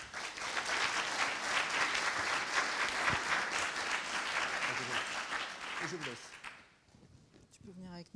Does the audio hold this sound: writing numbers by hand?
no